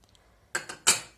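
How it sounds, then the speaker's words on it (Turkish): Metal spoon or whisk clinking three times against a bowl while egg, sugar, flour and starch are stirred together for cake cream, the sharp close strikes following a quiet pause. "Önce katı malzemeleri ve yumurtayı şu şekilde iyice karıştırıyorum"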